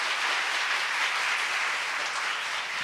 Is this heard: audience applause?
yes